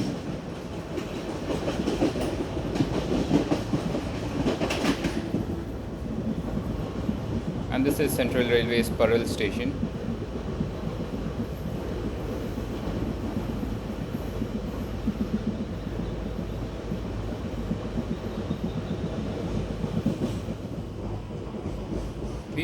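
Koyna Express passenger train from Mumbai to Kolhapur rolls along tracks near Dadar, its steady rumble and wheel clatter running throughout with a brief squeal around the middle, while someone talks over it.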